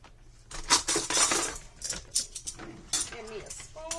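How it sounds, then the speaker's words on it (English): A spoon clinking against a glass or container while stirring honey into a turmeric and ginger shot mixture, with irregular light taps and scrapes close by under a voice. "Trying to make sure this honey gets mixed in."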